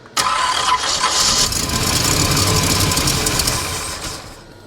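A 1969 GMC engine, fitted with a quiet exhaust and a weak fuel pump, cranks and catches after sitting 30 years. It settles into a loud, rough, steady run up close, then eases off near the end.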